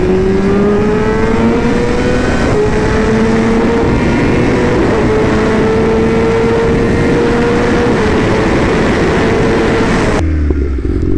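A BMW M1000RR superbike with unlocked power revs hard through a full-throttle pull, its loud engine note climbing steadily in pitch for about ten seconds before cutting off abruptly.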